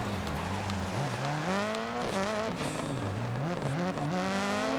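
A 600HP Subaru rallycross car roars throughout, its engine pitch rising and dropping sharply as it brakes late and downshifts into a corner, heard loud and continuous from close by.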